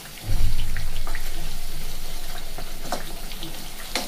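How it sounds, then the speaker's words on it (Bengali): Layered nimki dough hits oil on a low flame and bursts into a loud sizzle that settles into a steady, close bubbling fry with small pops. "দেখুন লেয়ারগুলো সব ভাজা যাচ্ছে"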